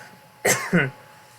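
A woman coughs twice in quick succession, close and fairly loud, then falls quiet.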